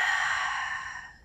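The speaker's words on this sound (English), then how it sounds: "In breath. Exhale." A long, soft exhale during a lower-back stretch, close and breathy, fading gradually over about a second with no talk.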